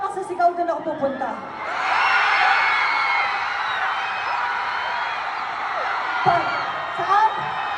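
A large outdoor festival crowd at a concert opening roars with sustained cheering, whoops and shouts, swelling loudly after a few seconds of scattered yells and holding as a dense, continuous wall of noise close around the stage.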